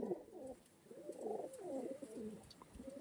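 Active pigeons, a quality Kalanka pair, coo repeatedly in low rolling phrases, several throaty coos following one another at moderate volume with no voices over them.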